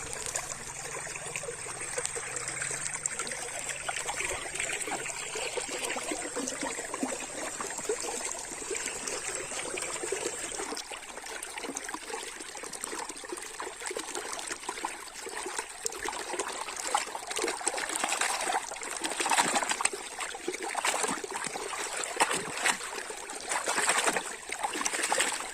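Water trickles steadily while plastic dinosaur toys covered in yellow mud are washed, a continuous close splashing dribble with faint handling noises and no talk.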